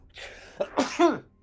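A single close sneeze with short breathy bursts building to a sharp voiced release, caught during an online tabletop role-playing game session.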